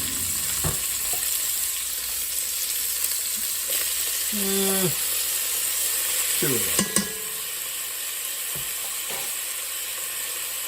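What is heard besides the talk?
onions and garlic searing in Dutch oven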